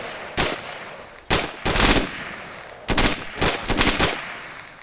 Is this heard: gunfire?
yes